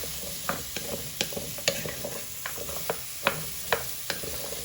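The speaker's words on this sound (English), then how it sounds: "Give them a little stir. So they coat into all your onions, garlic and potatoes." Onions, garlic and potatoes are stirred in a pan for carrot and coriander soup, a soft sizzle under repeated scraping strokes of the spoon against the pan, close and fairly quiet.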